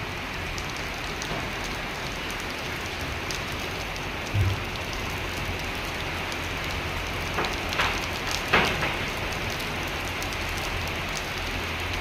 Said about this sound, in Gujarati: આવો છે આજનો વરસાદ.